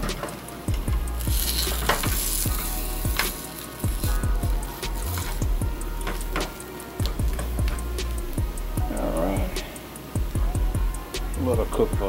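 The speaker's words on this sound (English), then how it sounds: "Let it cook meat side down a little bit more" A burger patty fries in a pan with a steady sizzle, broken by repeated clicks and scraping knocks, while a person talks intermittently.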